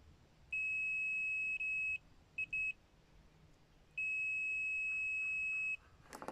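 Continuity test beeps from an Aneng PN107 clamp meter: a steady high-pitched tone held for about a second and a half, two short blips, then a longer tone of nearly two seconds, loud and close with no talking.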